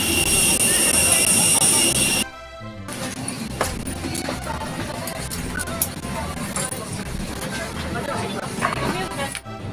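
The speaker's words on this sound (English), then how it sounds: "We're about to board the airplane." An airplane jet engine whines loudly and steadily before boarding, then gives way to a busy hubbub of nearby voices and general crowd noise.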